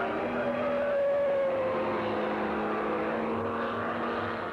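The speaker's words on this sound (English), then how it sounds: "John Love in his Cooper Climax is leading among local drivers." Racing cars at the East London Grand Prix circuit, including a Cooper Climax and a BRM, produce a sustained, fairly loud engine drone with a slowly shifting pitch as the cars pass.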